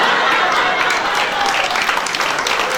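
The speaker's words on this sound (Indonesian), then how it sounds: "Itu yang tepuk tangan pasti orang Batak." A church congregation breaks into brief, loud applause, a dense wash of clapping that holds steady for a few seconds.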